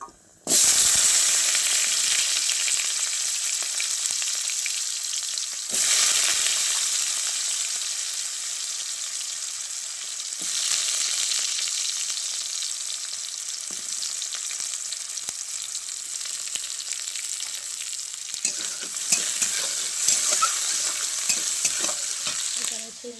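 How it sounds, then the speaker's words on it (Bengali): Peanuts fry in a pan with a steady close sizzle and stirring scrapes that dip briefly at intervals, with no voices present. "বাদামটা আমি একটু ভেজে রাখছি"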